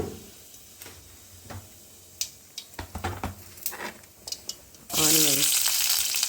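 Cumin seeds tempering in hot oil burst into a loud, steady sizzle after a few scattered ticks and clicks, with frying filling the last second and a half.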